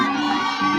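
Home fans at a Kansas women's college softball game against Oklahoma State roar in a brief, sustained burst of cheering and shouting, the crowd noise steady and full throughout the moment.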